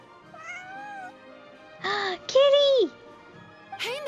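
A cat in Genshin Impact gives several meows, some soft and drawn out, others louder and rising, with short pauses between them.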